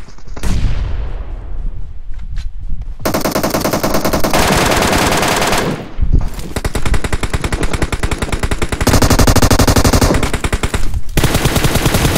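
Rapid automatic gunfire in the PUBG Mobile battle royale game, loud sustained bursts of machine-gun fire with brief pauses between volleys, dense and close throughout.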